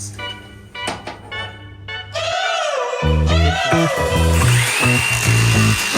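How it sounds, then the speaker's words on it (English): A power drill whines up and down in pitch as it bores through the metal body of a new Ram ProMaster van, loud and close, with steady grinding underneath. "We're drilling a hole in our brand new van."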